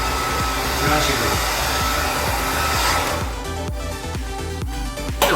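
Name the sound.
hair dryer blowing while styling hair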